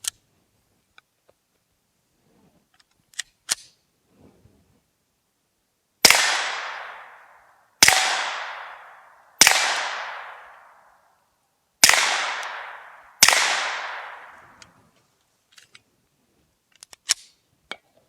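Five suppressed CZ pistol shots ring out on steel plate and a dirt berm, each a sharp crack with a decaying tail, fired in a quick irregular series after a few faint clicks, loud and close.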